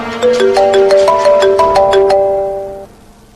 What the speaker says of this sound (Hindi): आमिर का फोन